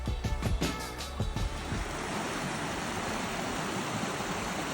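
A trout stream runs through a quiet campground, its water rushing in a steady broadband wash that sounds close and fairly loud, with a few brief knocks or splashes near the start.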